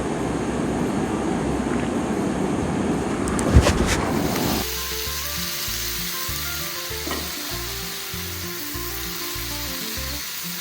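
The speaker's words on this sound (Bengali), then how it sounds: "ওদিকে মাছটা দিয়ে দিই ভাজতে" Fish frying in a hot pan, a dense steady sizzle that starts loud and then settles into a quieter crackle, heard close with no talking.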